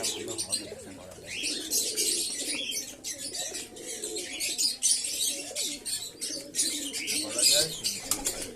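Pigeons at feeding time, soft cooing and chirps close by with occasional wing flutters, several birds calling at once in uneven bursts.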